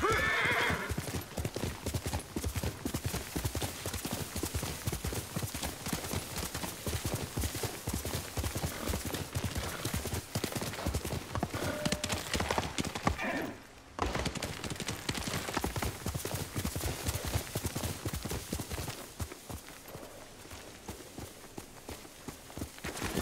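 Horse hooves clip-clop steadily in Ghost of Tsushima on PS5, with repeated neighing and whinnying over the galloping rhythm; the hoofbeats run continuously, pausing briefly midway before resuming, with no talk heard.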